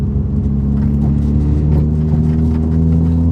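Turbocharged 406 bhp Vauxhall Corsa VXR engine pulling hard under acceleration, a loud, steady droning rumble with a rising mechanical whir from inside the car.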